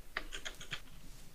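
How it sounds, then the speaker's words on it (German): Computer keyboard being hammered hard during a game, a quick run of sharp, close clicks and taps over a faint steady background. "Man hört meine Tastatur auf jeden Fall, weil so wie ich auf meine Tasten einhämmere gerade."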